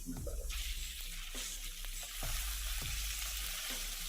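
Chicken pieces with garlic fry in hot oil in a pan, a continuous sizzle broken by a few stirring knocks and scrapes of a spoon.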